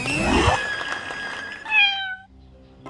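A cartoon cat in a video game meows several times, rising and falling mewls over soft game sounds, with a final drawn-out high meow before it fades.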